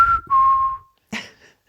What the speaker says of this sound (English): And I had to whistle.